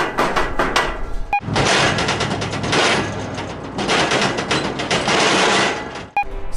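Heavy-duty steel ramps on an IronBull equipment trailer rattle and bang continuously while towed on a dirt road, with a loud, close, rapid clattering in long bursts.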